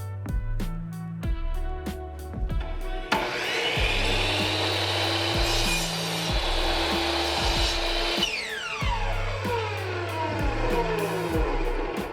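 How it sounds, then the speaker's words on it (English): Power saw cutting painted wooden shelf boards for window shelves, a loud whining buzz through the wood lasting several seconds and then spinning down, with a steady background hum and no talking. "I use that board to go ahead and mark the other 2 shelves and continue cutting so I have all 3 of my shelves"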